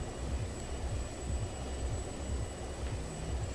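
A steady, loud helicopter engine drone with low rumbling rotor throb in the video game Just Cause 2, continuous throughout with no talking.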